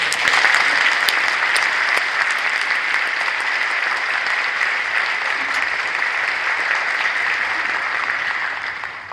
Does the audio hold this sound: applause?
yes